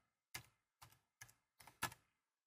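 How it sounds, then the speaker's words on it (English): Five separate, crisp keystrokes on a computer keyboard while entering data in AutoCAD, close and quiet, spaced unevenly against silence. "I'll press Enter, and then I'll type the employee last name"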